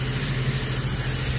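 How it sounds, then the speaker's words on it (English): A paint spray gun on low pressure releases a fine mist over a Honda Rebel 250 fender, making a soft, steady hiss that runs unbroken and fairly quiet. "I'm just letting it spray a mist."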